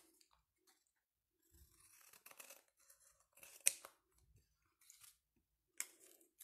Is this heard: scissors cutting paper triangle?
yes